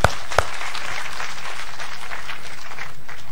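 Audience clapping at a motivational speech event, a couple of sharp claps up front followed by a steady, moderately loud wash of applause from a crowd.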